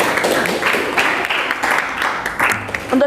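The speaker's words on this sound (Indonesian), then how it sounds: "Tepuk tangan." Students clap their hands together in a classroom in a continuous, fairly loud round of applause with some voices mixed in.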